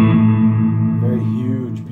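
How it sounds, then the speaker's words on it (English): Guitar through a Fender Champion 100 solid-state 2x12 combo amp with reverb and delay effects, sustained tones ringing with a lush, spacious wash, fairly loud and close for about two seconds. "So, right here it's reverb and delay."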